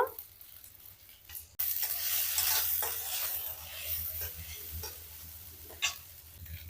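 Mustard paste and dried chillies hit hot oil with a sudden burst of sizzling, then a spatula stirs and scrapes through the frying at close range.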